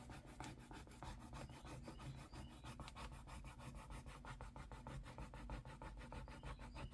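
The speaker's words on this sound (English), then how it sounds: "And you're rubbing down the whole sticky part." Steady close rubbing and scraping while a large transfer sticker is burnished down onto a surface, continuous and fairly faint with fine rhythmic strokes.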